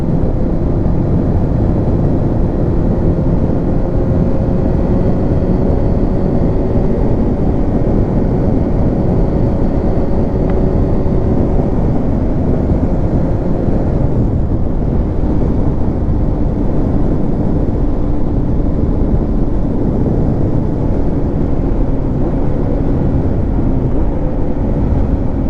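Honda CBR929RR sport motorcycle with a new radiator runs at steady loud speed for the whole stretch, engine note rising and falling as the rider works through the gears, with heavy wind rush throughout.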